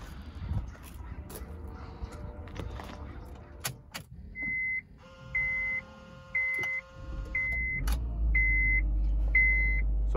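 A 2008 Honda Civic Hybrid with front-end damage starts up and idles as a steady engine hum, while a repeating series of electronic beeps chimes in a regular rhythm over it, loud and close, with no talk.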